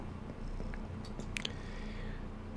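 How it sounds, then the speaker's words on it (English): A cat moves about in a bedroom, giving a soft, low purring rumble with a few faint, brief clicks and small mouth sounds over a steady room hum; no one speaks. "there's now a cat in my room"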